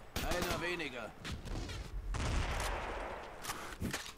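Gunfire in the tactical shooter game Raven Squad, with bursts of rifle shots and rapid volleys cracking over a rumbling battle mix, interrupted by short gaps.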